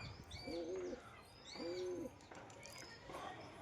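Pigeons coo in two distinct, fairly loud calls about a second apart against a noisy outdoor background, followed by fainter chirps and calls.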